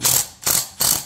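A ratchet clicks in three quick, loud bursts while tightening bolts on a replacement Rheem PSC blower motor, each a close, rapid metallic zip separated by brief pauses.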